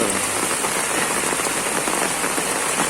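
Heavy rain pours down steadily onto surfaces around a flooded home yard and village road, a dense loud hiss of close drops with no pauses.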